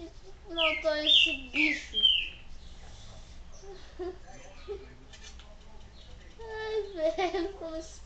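Small birds chirping and trilling in Resident Evil 4, bright repeated tweets in short bursts alongside squeaky game sounds, with faint background tones between the calls.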